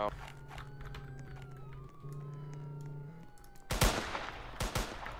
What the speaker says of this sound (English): Oh no, the deputy shot me